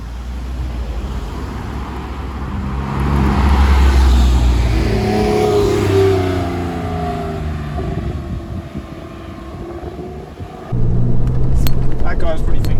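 A Porsche 996 Carrera 4S drives by with a close engine note that rises, sweeping up in pitch mid-clip, then eases off before a louder rumble near the end.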